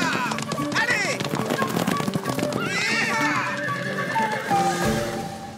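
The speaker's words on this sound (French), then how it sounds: "les chevaux vont s'emballer" Several horses whinny and neigh in a spooked, agitated burst, with hoofbeats clip-clopping in a rush beneath, set in a cartoon scene with music and a brief voice over the commotion.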